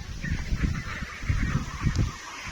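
Domestic ducks, roughly two and a half months old, calling repeatedly in a pen at feeding time; a busy chorus of overlapping honking quacks, fairly close and steady, with no talking.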